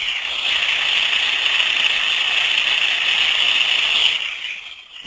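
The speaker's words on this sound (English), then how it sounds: "here is a bearing fault that was caught in stage 1." An ultrasonic probe picks up a bearing fault with early subsurface fatigue as a steady, even hiss with a faint rough texture, which fades out near the end.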